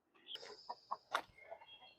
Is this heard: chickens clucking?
yes